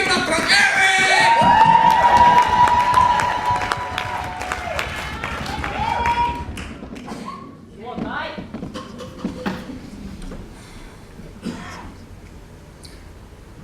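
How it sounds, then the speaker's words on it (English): Audience applause and cheering at a poetry slam final at a writers festival, loud and dense at first, then fading into scattered clapping and crowd noise with some voices. "Keep that applause going."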